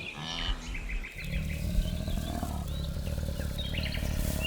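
A baboon troop on the Serengeti howls alarm calls from high ground, loud overlapping barks and cries layered over a rumbling, wild outdoor background.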